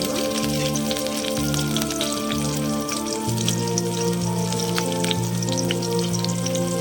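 Garlic and green chillies fry in hot oil in a pan with a steady close sizzle and crackle throughout; a sustained tonal hum runs underneath.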